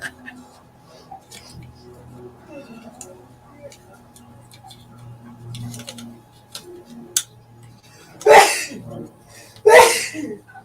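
Two sharp, loud sneezes burst out close by, about a second and a half apart, after quieter background talk in a casual workspace.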